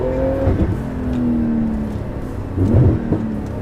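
A 700 hp rear-wheel-drive Porsche 991 accelerating hard from a launch, loud engine surging in pitch with a shift, then another sharp rise in revs, close and without talking.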